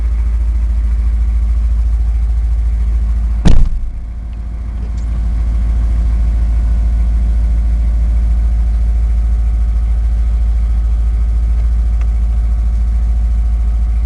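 A centermount pressure-washer engine nicknamed Rattlepuss, running on its own during break-in at about 500 miles with a 290 thou plunger pump fitted, with the dumper box removed. It hums steadily and close, with one brief sharp knock early on and no talk.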